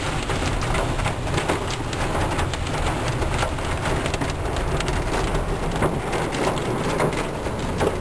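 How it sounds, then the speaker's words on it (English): Tiny pea-size hail falls during a supercell storm, a dense, continuous hiss of many small pattering impacts, loud and close, with no voices. "it's like tiny hail."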